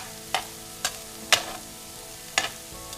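Onions softening in a pan, stirred a few times: four or five sharp scraping strokes of a utensil over a low steady sizzle, close and fairly loud, with no voices.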